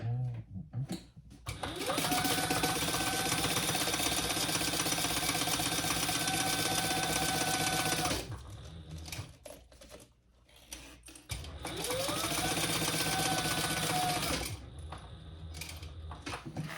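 A sewing machine topstitches a fabric sling bag in two long, steady runs with a brief pause between them, running loud and close throughout.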